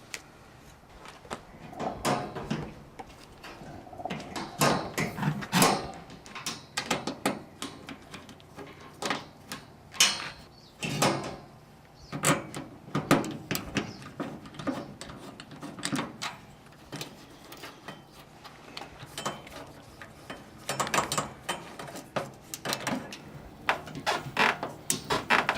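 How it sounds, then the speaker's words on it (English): Phillips head screwdriver tightening screws on the handles of an EcoQue Generation 3 oven and smoker, giving repeated close clicks and ratcheting ticks in irregular bursts throughout, with no talking. "Tighten these screws down really good on both of these handles."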